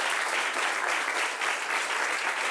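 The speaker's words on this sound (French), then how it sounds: "applaudissements pour elle, s'il vous plaît" Steady, dense applause from a talk show studio audience fills the room evenly, a continuous wash of many hands clapping with no voices standing out.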